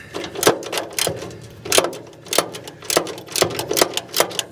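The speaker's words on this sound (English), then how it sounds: "with our 11mm socket wrench and our open-ended wrench on the back, just going to try to get in there like that" An 11mm socket wrench, with an open-ended wrench holding the back, works a bolt on a John Deere 6x4 Gator utility vehicle, giving a series of sharp close ratcheting clicks in irregular bursts, no voices.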